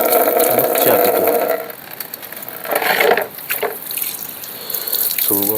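A running kitchen or bathroom tap pours into a sink while someone rinses their mouth, a steady loud gush that dips briefly, then splashing and swishing water up close.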